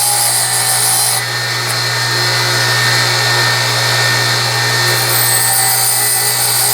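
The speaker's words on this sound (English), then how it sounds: "Going to be grinding a lot of metal off, so keep your drill cooled down" A loud, continuous grinding wheel whine with a steady hum underneath as a sheet metal drill bit is ground against it, close up and unbroken.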